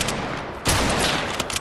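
Suppressed sniper rifle fire in Fortnite, dense, loud gunfire with a sharp burst near the middle and a few quicker cracks toward the end, no talking.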